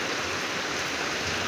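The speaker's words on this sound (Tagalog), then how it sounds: "Humina na po yung ulan." Rain falls steadily outdoors behind a house, a dense, even hiss of drops with water running toward a drainage, constant and fairly soft, with no voices.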